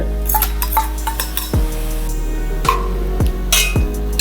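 Chopped onion goes into an AMC cookware pan, giving a few sharp metallic clinks and thuds of a utensil against the pan over a steady low hum, with no talking.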